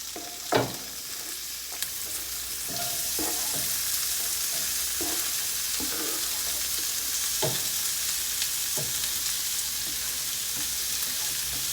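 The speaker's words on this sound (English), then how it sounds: "We're going to go ahead and add in our pancetta and our onions" Pancetta and onions hit a hot pan for risotto, giving a steady, close sizzle that swells after a couple of seconds and holds, broken by a few sharp spoon-on-pan clicks from stirring.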